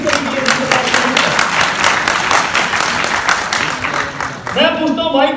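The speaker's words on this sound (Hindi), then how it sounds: "एक बार जोरदार तालियां हो जाए इन सभी के लिए" Audience applause at a training session in a Faridabad hotel ballroom, a steady wash of clapping at close range with voices mixed in, shifting to a louder voice near the end.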